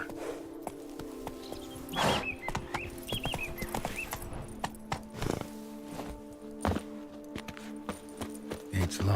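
Horse hooves clip-clop at a steady walking rhythm in the Witcher 3 game world, Blood and Wine expansion, with a whinny and louder stamps breaking through a soft ambient music bed.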